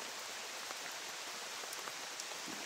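Even, steady hiss of rain falling, a dense patter of drops on surfaces with no pauses, fairly soft and close, with no voices.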